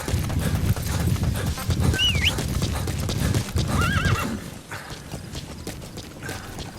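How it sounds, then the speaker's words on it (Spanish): A horse in the Metal Gear Solid V video game trots in with rhythmic clip-clopping hooves and gives two clear whinnies, the hoofbeats fading lower toward the end. "Vamos a llamar al caballo."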